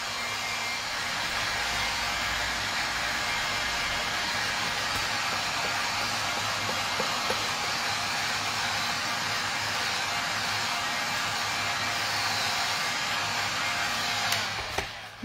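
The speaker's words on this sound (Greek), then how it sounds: "Ζητώ συγγνώμη για το πιστολάκι που κάνει θόρυβο" A handheld hair dryer blowing on a freshly painted wooden egg, a loud, steady broadband whoosh running unbroken for about fifteen seconds and cutting off at the end.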